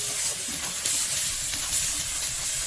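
Chopped tomato hitting hot, oil-separated fish curry gravy in a Bihari-style pan, giving a steady, loud sizzling hiss that holds evenly throughout without any talk.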